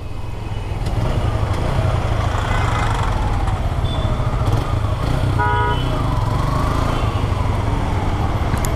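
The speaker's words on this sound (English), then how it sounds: "the bike easily pulls" Suzuki Intruder 150 ABS motorcycle engine running steadily and loud while riding through a tight U-turn, a continuous close drone with a brief horn-like tone partway through.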